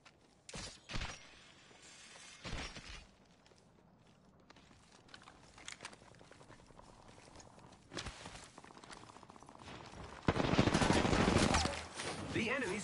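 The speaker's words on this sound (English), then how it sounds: "The enemies are shooting at me." Enemy gunfire in the Apex Legends battle royale game, sharp shots scattered through the clip with a loud sustained burst near the end, mixed with footsteps and game effects.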